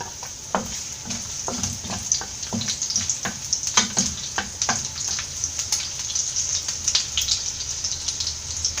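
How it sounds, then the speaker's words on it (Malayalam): Garlic dropped into hot oil in a pan for Kerala-style egg hakka noodles, giving a steady close sizzle with repeated scraping stirs and crackling bursts throughout, no voices. "ഇതിലേക്ക് കുറച്ച് ഓയിൽ ഒഴിച്ചു കൊടുക്കാം. വെളുത്തുള്ളി ഇട്ട് കൊടുക്കാം."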